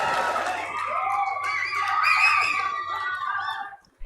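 Auditorium crowd at a valedictory and prize distribution function roars with loud, sustained screaming and cheering, whoops and shouts rising over several seconds before cutting off abruptly.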